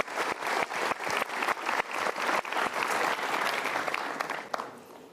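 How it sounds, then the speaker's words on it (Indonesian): Audience applause at an Indonesian motivational talk show, loud dense clapping from a large crowd with sharp individual claps near the start, sustained for about five seconds before thinning out. "Oke, kita berikan tepuk tangan dulu."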